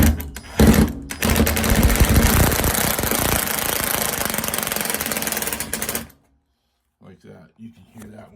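A Phillips head screw driven in with a power driver during Samsung WF50K7500 washer repair, a loud rattling, buzzing whir lasting several seconds before stopping abruptly, followed by faint handling clicks.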